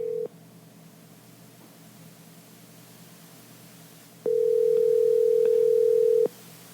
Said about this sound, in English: exciting phone ringing